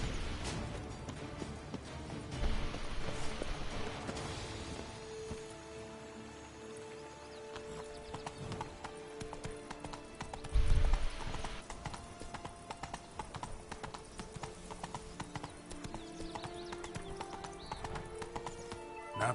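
Roach the horse gallops in The Witcher 3, a steady, close clip-clop of hooves running through the whole stretch, with a whinny and a brief crash partway through and game ambience layered underneath.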